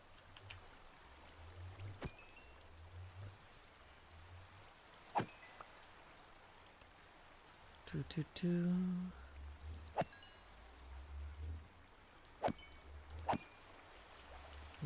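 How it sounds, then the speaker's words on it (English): Steady rain in the Minecraft video game patters softly under scattered game clicks, short splashy effects and a brief mid-clip burst, all fairly quiet and without talk. "Hopefully it's still raining when we get out there."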